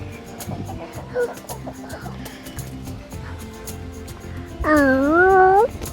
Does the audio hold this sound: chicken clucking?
yes